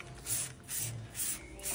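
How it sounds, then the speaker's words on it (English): Tyre shine sprayed from a trigger bottle onto car tyres outdoors, four hissy spray bursts in a steady rhythm, close and moderately loud. "And all you want to do is spray the tyres, right?"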